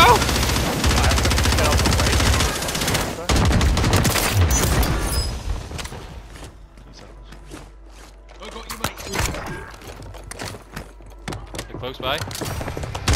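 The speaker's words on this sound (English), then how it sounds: "I'm getting sniped from somewhere." Gunfire in the Warzone video game, with dense automatic bursts and sharp single shots crackling loudly through the first few seconds, then scattered closer reports and impacts over a quieter bed.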